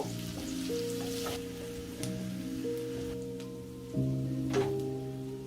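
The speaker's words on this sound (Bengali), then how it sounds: "পেঁয়াজগুলোকে লাল করে ভেজে নিব।" Onions fry in a pan for a Bengali prawn and Malabar spinach dish, a steady soft sizzle like light rain, close and even, with faint background tones and no speech.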